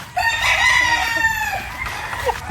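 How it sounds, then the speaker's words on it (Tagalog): A rooster crows loudly and close, one long drawn-out call, inside a chicken coop on a farm, with softer clucking from the other chickens around it. "So ito mga bossing yung ating manukan"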